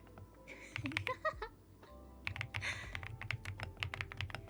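Steady close-up typing on a thocky Marshmallow mechanical keyboard, a dense run of muted, rounded keystrokes with a brief pause partway through.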